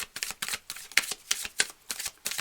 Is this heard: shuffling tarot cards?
yes